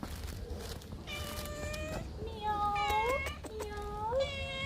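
A cat meows repeatedly, three or four drawn-out, rising cries close by, over a low background murmur.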